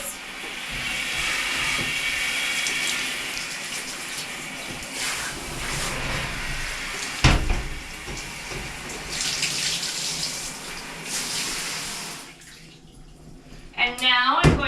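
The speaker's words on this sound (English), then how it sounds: "And then you want to rinse your shower doors." A water sprayer rinses shower doors with a steady close hiss and splashing that fades out near the end, where a voice briefly begins speaking.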